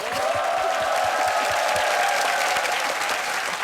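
A television studio audience applauds on a Korean variety show set at an army unit, a dense, sustained round of clapping at steady volume, with faint voices and cheering beneath it.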